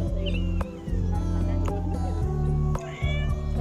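Several short, loud cat meows ring out close by at an outdoor park in Jeddah, Saudi Arabia, over a low background hum and with brief voices nearby.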